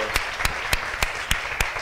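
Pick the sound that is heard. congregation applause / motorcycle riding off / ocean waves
congregation applause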